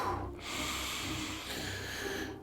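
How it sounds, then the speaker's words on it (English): A single deep breath drawn in and slowly let out, close and breathy, filling the moment alone without talk. "take a deep breath"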